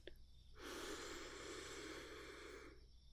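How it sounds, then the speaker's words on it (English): A slow, deep breath drawn in through the nose during a calm ASMR energy-healing session, a single soft, close, airy inhale lasting about two seconds in an otherwise quiet room. "Breathe in."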